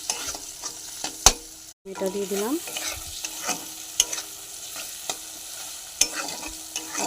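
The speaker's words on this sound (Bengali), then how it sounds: "এই যে পেঁয়াজটা ভাজা ভাজা হয়ে আসছে" Chopped onion sizzles in hot oil in a frying pan while preparing a lote fish bharta, a soft continuous fry punctuated by sharp clinks of a stirring spoon, with a brief spoken remark.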